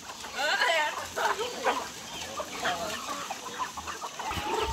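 Several chickens cluck and squawk nearby on a farm in uneven bursts, with a soft background murmur beneath.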